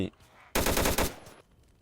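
An M16/M4 automatic rifle in a Minecraft zombie addon fires a loud, rapid burst of shots lasting just under a second, then cuts off sharply, with a quiet lead-in before it and a fading tail after.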